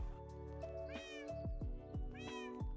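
A Minecraft cat mews several times in quick succession, the calls near and distinct, a couple of them drawn out with a wavering tone, alone with no speech.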